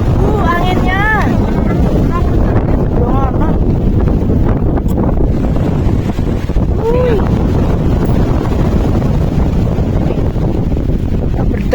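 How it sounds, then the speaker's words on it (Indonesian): Strong wind sweeps across the slopes of Mount Merbabu during a storm, roaring and buffeting loudly and continuously against the microphone while people talk faintly beneath it. "Berteduh dan istirahat sejenak karena anginnya besar."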